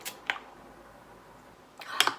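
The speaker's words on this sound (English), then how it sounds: "I just want to spray this right now." Two short, airy spritzes of a perfume spray bottle, separated by a quiet pause; the second puff is a little longer and louder.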